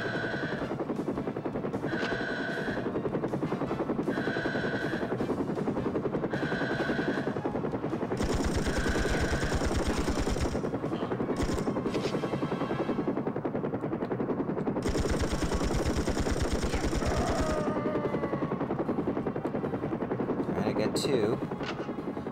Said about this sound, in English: I think it's just the one helicopter